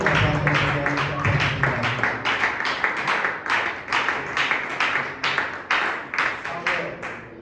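A church congregation claps in rhythm during a bilingual French and English worship service, steady loud clapping with voices singing or speaking over it throughout.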